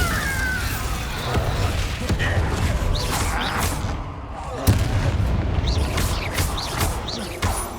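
A Bombarda blasting spell from the Hogwarts Legacy video game bursts amid a dense, continuous battle mix of booming impacts, crackling debris and spell effects, with one sharp, loud hit standing out near the middle.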